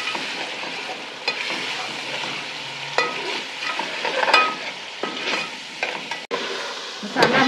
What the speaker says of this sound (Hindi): अब हम इसमें दही डालेंगे अब दही को भूनेंगे